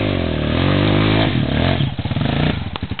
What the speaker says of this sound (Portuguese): A moto dele é uma DT 180, ano 86.